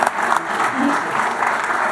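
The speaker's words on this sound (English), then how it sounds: "So let's give him another round of applause." Steady applause from an audience at a school board meeting, a dense even clatter of many hands sustained for the whole stretch at moderate loudness, with no talking over it.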